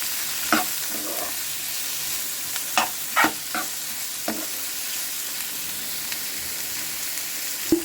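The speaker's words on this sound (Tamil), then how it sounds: "கருவேப்பிலை போட்டு இதை நல்லா வதக்கி வச்சுக்கலாம்" Curry leaves sautéed with onion in a hot pan, a continuous sizzle and frying hiss broken by several sharp scrapes and pops of stirring.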